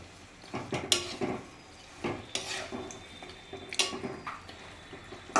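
A spatula stirs chicken with yogurt in a pan, producing soft intermittent scrapes and knocks against the metal at close range, fairly quiet, with no speech.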